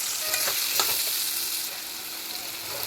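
Potatoes fry in hot oil in a pan for a potato and drumstick curry, a steady sizzle broken by a few scraping stirs of a spatula early on.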